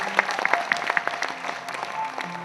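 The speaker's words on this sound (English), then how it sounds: "a big round of applause" A seminar audience applauds steadily, many hands clapping together in a continuous patter over a short stretch.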